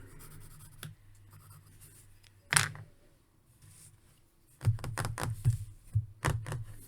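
Pencil or pen drawing by hand while inking a Captain America Mech Strike armor illustration, with sparse scratchy strokes and a sharp tap early on, then a denser run of quick, close scratching strokes near the end.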